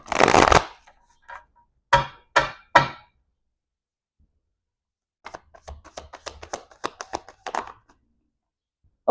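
Tarot cards are shuffled close by in several sharp riffling bursts, a few spaced snaps followed by a quicker run of light card flicks, with quiet gaps between.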